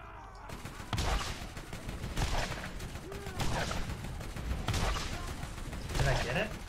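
Gunfire in Borderlands, repeated sharp shots spaced a second or so apart over a steady backdrop of game noise, loud and close.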